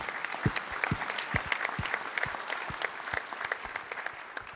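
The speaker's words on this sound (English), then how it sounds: "So how about a quick round of applause for Scott and the entire EPI team." A modest round of applause at a summit, distinct individual claps from a smallish audience heard fairly quietly, steady for several seconds.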